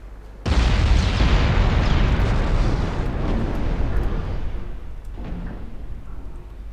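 Naval gunfire and shell explosions from a dreadnought-era battle in Ultimate Admiral: Dreadnoughts: a sudden loud, deep blast erupts and rumbles on for several seconds, slowly fading, with smaller bursts toward the end.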